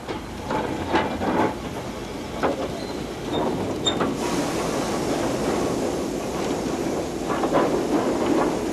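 Class 08 diesel shunter moving along track on a heritage railway, a steady rumble with faint clanks and a hiss, fairly constant, no speech.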